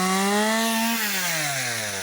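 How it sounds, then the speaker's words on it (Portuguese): Chainsaw cutting firewood for a bonfire, its engine a loud, close, sustained whine that holds steady, then drops gradually in pitch as the chain bogs into the wood. "melhor olhar um computador do que um motosserra recortando"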